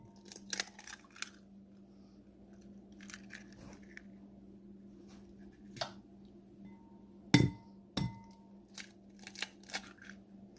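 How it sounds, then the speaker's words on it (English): Eggs being cracked into a bowl while making Nigerian egg roll dough: faint ticks and taps, then two sharp knocks close together, with softer clinks afterward in a quiet kitchen. "I'm going to crack my egg in."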